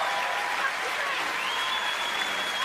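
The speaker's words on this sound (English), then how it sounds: "The roaring applause that got." A large stand-up comedy crowd at a George Carlin show claps and cheers in a loud, continuous roar that holds steady without a break.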